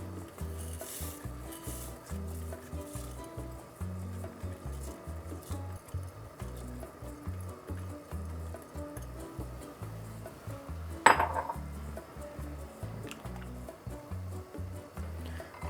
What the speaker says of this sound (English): just added the rice, which is gonna be good